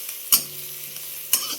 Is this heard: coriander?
yes